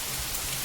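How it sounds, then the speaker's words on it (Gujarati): Heavy monsoon rain pours down in a dense, steady hiss, close and loud throughout, with no voices. "વરસાદ તો ભૂકા કાઢે છે"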